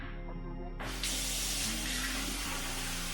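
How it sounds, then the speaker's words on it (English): Cold water runs steadily from a bathroom tap as a face is rinsed clean, a close, continuous splashing stream that grows brighter and fuller once the flow opens up, with no voices over it. "Then you wash off with cold water."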